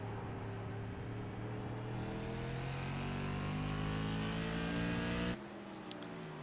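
Tour modified race cars run at Martinsville in a 125-lap race, with a loud sustained engine drone rising as a car passes close by, then cutting off abruptly near the end.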